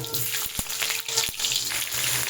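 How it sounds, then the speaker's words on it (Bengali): Potato pieces fry in hot oil as they go in one by one, a loud close crackling sizzle with a few sharp knocks and a faint steady hum underneath. "তেলটা গরম হয়ে গেছে আমি আলুগুলোকে একে একে সব ছেড়ে দিই তেলের মধ্যে"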